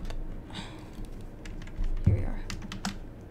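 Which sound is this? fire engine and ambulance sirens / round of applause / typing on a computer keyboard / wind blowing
typing on a computer keyboard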